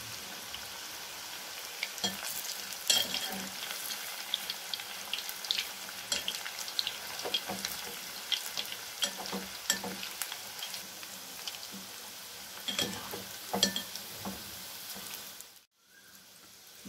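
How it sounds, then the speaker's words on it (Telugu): Veg manchurian balls deep-fry in oil over a medium flame, giving a steady close sizzle with scattered crackles and pops that stops briefly near the end, with no talk. "వీటిని మీడియం ఫ్లేమ్ లో పెట్టుకొని మాత్రమే వేయించుకోవాలి"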